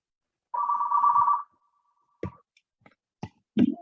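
Office telephone ringing, one short electronic ring burst followed by a few soft clicks and knocks, close and alone in a quiet room.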